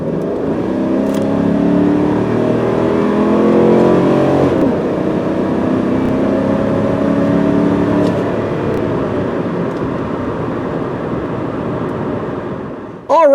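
A car engine hums and pulls steadily from inside the cabin on a test drive, a loud continuous drone with rising tones as it accelerates, easing off briefly mid-run before picking up again.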